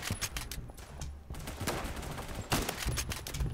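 Gunfire from Phantom Forces, a first-person shooter, crackles in quick bursts of sharp shots mixed with softer distant pops, fairly quiet and continuous over a few seconds.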